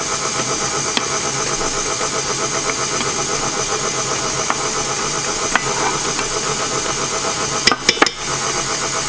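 An electric mixer whisks ricotta cake batter in a home kitchen, running as a loud continuous motorized whir throughout, with a few brief clicks and knocks near the end.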